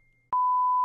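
A mobile phone gives one loud, clean electronic beep: a steady tone that starts abruptly partway through and holds to the end, with no talk around it.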